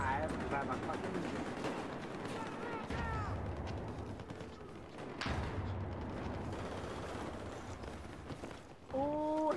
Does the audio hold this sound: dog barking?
no